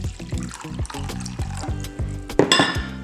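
Half a cup of warm water poured for a yeast and sugar mixture for homemade cinnamon rolls, a steady close trickle with a few light clinks of a cup or bowl near the end.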